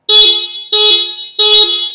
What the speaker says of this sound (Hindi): तो काफ़ी लाउड यहाँ पे आपको हॉर्न देखने को मिलता है